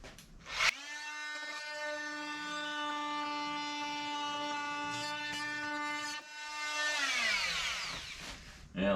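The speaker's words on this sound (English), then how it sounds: "So I'm gonna try to cut behind that bulkhead so this will stay attached to the bulkhead on the very back part." A power tool cuts behind a boat bulkhead during a boat teardown, giving a loud steady high whine for several seconds. It stops briefly, then starts again and winds down with falling pitch.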